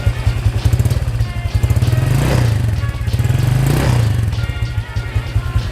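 Modified Honda Vario 150 scooter engine idling with a steady, close putter, then given two light throttle blips that swell and fall back to idle.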